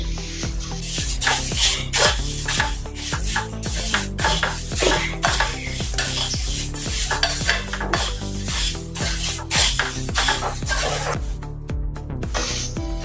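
Puffed-rice chivda gets tossed in a pan with roasted cashews, raisins and peanuts, producing loud rhythmic scraping and rattling strokes repeating every second or so, layered over background music.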